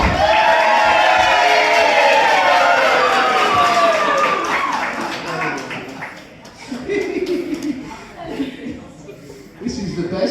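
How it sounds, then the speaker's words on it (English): A live audience at a family show in a caravan park claps and cheers together on cue, a loud crowd roar with whoops and laughter that fades after several seconds, then rises again in shorter bursts. "the whole audience will clap and cheer at the same time"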